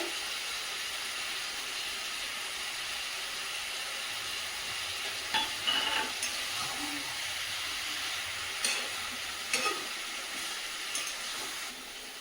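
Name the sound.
frying onion, ginger and garlic paste for chicken curry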